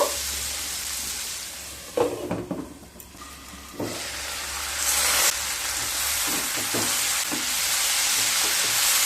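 Potatoes and onions fry in a pan with a steady hissing sizzle, interrupted by a few scraping stirs before the frying noise builds louder and continues alone.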